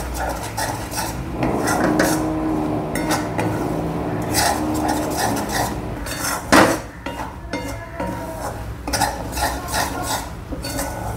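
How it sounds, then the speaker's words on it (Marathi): Chili powder, turmeric and spices for a spring onion bhaji are stirred in a pan, with repeated metal scraping and clinking of a spoon against the pan in uneven bursts, plus a louder knock midway, with no voices. "परत एकदा हे सगळं नीट मिक्स करून घेऊया"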